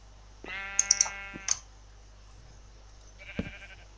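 A few short sheep bleats with a synthetic game-like tone, one longer bleat followed by brief ones, then a quieter bleat near the end, over faint hum.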